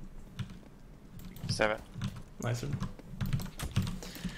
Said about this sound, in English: Your keyboard is so loud